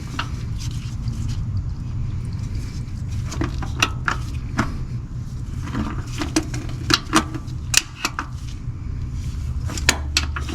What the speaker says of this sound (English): I'm going to take my oil filter pliers and we're going to loosen